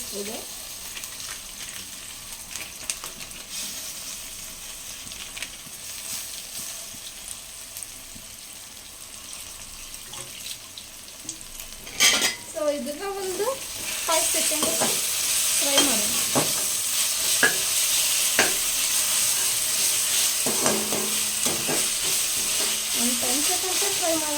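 Ginger garlic paste from two packets sizzles and fries in a pan for a chicken fry dish, with a spatula stirring and scraping; the frying grows louder partway through and carries on steadily to the end.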